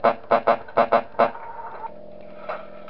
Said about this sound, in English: 5 a.m. means the rooster calls.